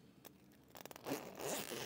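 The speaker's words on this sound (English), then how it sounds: "we're gonna bring our zipper pulls in." Zipper pulls slide along the zipper of a sewn clear vinyl train case, a few quick close zipping rasps followed by handling rustle, faint and alone.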